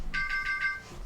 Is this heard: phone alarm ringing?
yes